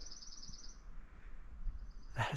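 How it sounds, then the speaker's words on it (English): Birds chirp and call repeatedly but faintly in mountain forest high on Clingmans Dome, Tennessee, with a soft steady wind-like hush underneath and a brief louder rustle at the end. "Just listen to the birds."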